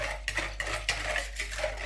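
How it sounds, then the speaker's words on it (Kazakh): A whisk stirs a yeast mixture in a bowl, giving a run of quick metallic clinks and scrapes against the sides at close range, with no voices. "Венчикпен араластырып аламыз"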